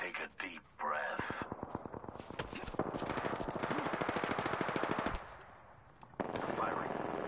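Rapid automatic gunfire in a video game rattles in a long dense burst, with shorter shots before and after it and voices heard around the shooting.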